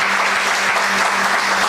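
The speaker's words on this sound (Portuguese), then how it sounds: "Pode aplaudir forte." Audience at a 2019 Catholic youth retreat applauding loudly and steadily, a dense sustained wash of clapping throughout with no speech.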